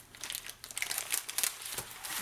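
A crinkly mail parcel being unwrapped gives bursts of close, sharp plastic and paper crackling and rustling, irregular and alone for a couple of seconds.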